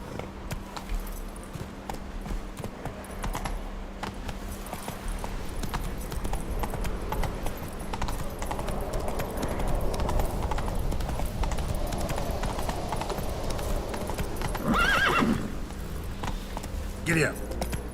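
A horse gallops on the Skellige Isles in The Witcher 3, its hooves pounding in a dense, continuous rhythm under background noise, with voices speaking at moments.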